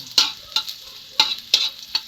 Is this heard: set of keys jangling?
no